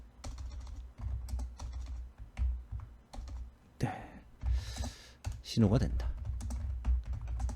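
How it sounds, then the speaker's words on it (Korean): Halting, uneven typing on a computer keyboard, scattered close clicks and short runs of keystrokes under intermittent speech, with a sigh or breath partway through. "타자가 좀 서투네요."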